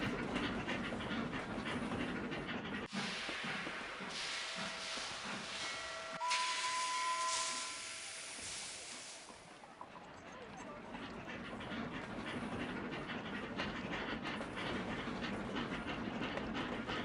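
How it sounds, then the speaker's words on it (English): A steam train runs in Sid Meier's Railroads on PC, a steady hiss and chuff with a brief whistle-like tone in the middle, the rumble dipping and then returning. "Watch your train deliver as it travels back and forth between Baltimore and Washington."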